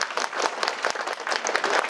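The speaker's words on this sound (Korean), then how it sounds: "어머님들 이럴 땐 박수 치셔야 됩니다." Mothers in an audience at an academy information session clap, a brisk patter of many hands close by and fairly loud, with no one speaking.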